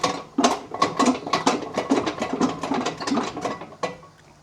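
A ratchet wrench clicks rapidly on the mounting bolts of a travel trailer's spare tire bracket, a close, busy run of metallic ratcheting in repeated strokes with brief pauses.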